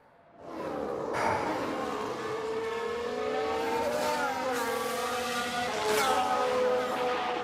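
An F1 Manager 22 race car spins out during the French Grand Prix, engine revving loudly with shifting whine and tyre scrub throughout, sustained and close.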